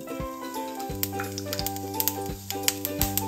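A few cumin seeds crackle in about half a teaspoon of hot ghee in a kadai, with sparse sharp pops over a sustained tonal musical backing, no voices.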